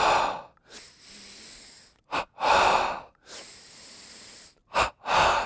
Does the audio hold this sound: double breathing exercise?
yes